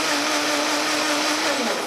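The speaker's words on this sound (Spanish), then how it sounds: "vamos a poner toda la fresa que ya tenemos picadita en una trituradora o una licuadora" A kitchen blender pureeing chopped strawberries for a strawberry mousse, a loud, steady motor whir with a slight pitch dip near the end, heard alone without talk.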